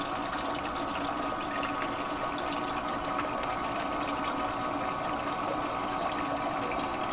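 Water surges steadily and continuously through a GOLDROP mercury trap, keeping the heavy material churning, a loud even wash with no breaks.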